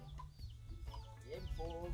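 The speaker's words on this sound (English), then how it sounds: "game fowls" Game fowl chickens at a rabbitry farm in Jamaica, clucking and squawking in a faint, busy chorus of short calls over a low background hum.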